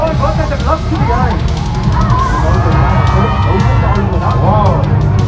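A large crowd of thousands on a pedestrian walking street cheers, whoops and claps throughout, a dense roar with yells rising over it while a host talks above the noise.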